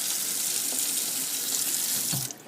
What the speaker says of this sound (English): Now we'll fill the pan up, the water pan.